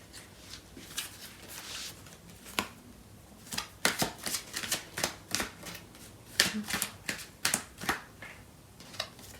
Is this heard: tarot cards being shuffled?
yes